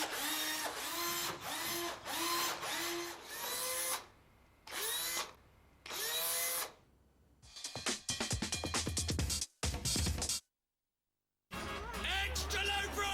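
A power drill whirs in several short bursts, near and loud, followed by busier mechanical rattling and a brief silence before another burst.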